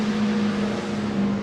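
The number 14 historic racing car at the Goodwood Revival, driven by Justin Law, gives a steady engine drone with a sustained tone, heard at moderate distance without talk.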